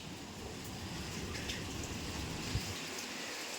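Steady rain falls outside a house during a windy storm, a faint, even hiss of drops throughout with a small tap or knock near the end and no talk.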